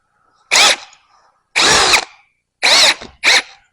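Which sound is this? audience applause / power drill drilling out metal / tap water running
power drill drilling out metal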